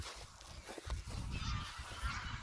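Geese honk loudly and continuously, a noisy flock calling over one another close by.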